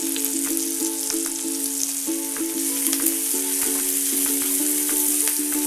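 Tomato and baru-flour farofa frying in a pan, a steady close sizzle with faint crackles and light stirring scrapes throughout.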